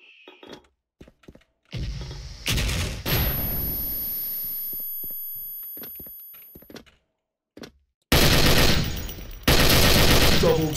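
Soviet Degtyarev machine gun fired in an online shooter game, loud bursts of automatic fire that come in separate blasts, with a long echoing decay between them and clicks and thuds in the quieter gaps.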